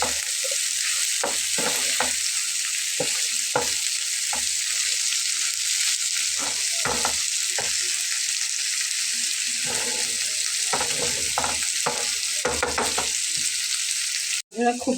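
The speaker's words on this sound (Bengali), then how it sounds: "তো মশলাগুলোর সাথে খুব ভালোভাবে মিলিয়ে কষিয়ে নেব 10 মিনিটের মতো।" Dried loitta fish fries with spices in a pan, giving a steady, close hiss of sizzling oil broken by repeated scraping and stirring strokes, with no talk.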